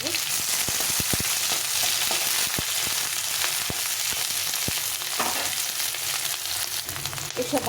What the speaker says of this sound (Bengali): যে সবজিগুলো ভাজা বেশি ভাজতে হবে সেগুলো আগে দিয়ে দিচ্ছি